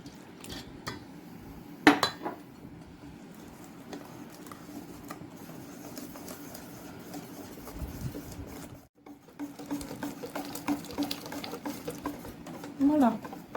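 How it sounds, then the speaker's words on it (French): Prune far batter being whisked vigorously in a bowl as milk is poured in gradually, a steady scraping and clinking stir with a few louder knocks against the bowl, close and moderately quiet. "C'est pour ça qu'il faut remuer de manière énergique."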